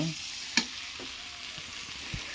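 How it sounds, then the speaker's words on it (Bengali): Onions and spices with bay leaf, cardamom and cloves fry for a duck curry, giving a steady sizzling hiss with a sharp clink of a stirring utensil and a few soft knocks, no talking. "পেঁয়াজগুলো কষা নিচ্ছে মানে এক কথা মশলা কষাচ্ছে"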